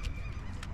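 White water birds being fed honk loudly nearby, two short goose-like calls within a brief moment.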